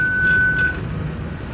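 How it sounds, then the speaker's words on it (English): A steady high electronic buzzer tone from a shipboard VHF radio test sounds for under a second over a constant low engine-like rumble, then cuts off leaving the drone. "You can hear also the buzzer here"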